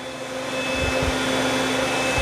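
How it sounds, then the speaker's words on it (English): iRobot Roomba Combo 10 Max robot vacuum vacuuming and mopping a floor, a steady whirring motor drone with a high whine, running continuously and close, with faint bumps underneath. "It's going to vacuum and mop this area."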